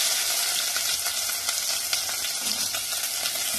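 Onion tipped into hot oil with cumin and fennel seeds sets off a loud, steady sizzle and crackle, close and continuous with light stirring scrapes, no talking.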